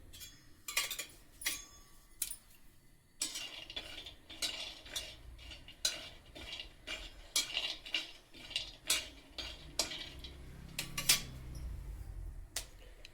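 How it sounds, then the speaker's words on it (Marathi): Peanuts dry-roast in a pan for sesame til poli, the spoon stirring them in steady repeated strokes that produce quick rattling clicks and metallic scrapes, fairly close, with a soft rumble toward the end. "इथे आधी मी आता शेंगदाणे भाजून घेणार आहे"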